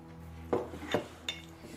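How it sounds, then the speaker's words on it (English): Cutlery clinking against plates and bowls, three or four separate light clatters spaced apart, close and quiet over a faint steady hum. "All they could hear was the sound of cutlery hitting the plates and bowls."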